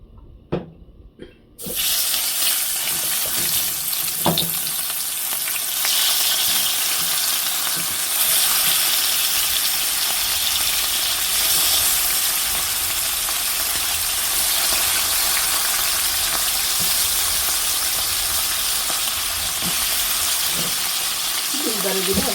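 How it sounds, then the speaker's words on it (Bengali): Pieces of Baim fish rubbed with salt and turmeric drop into hot oil in a pan, bursting into a loud, steady, crackling sizzle that holds unbroken at close range after a brief quieter moment at the start. "মাছ তো বেশি পরিমাণে দুইবারে ভাজবে"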